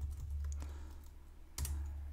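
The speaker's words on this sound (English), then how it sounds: "we can do that by typing script source" Code being typed on a computer keyboard, a steady run of soft clicking keystrokes with a sharper burst of louder key hits near the end, close and alone over a low steady hum.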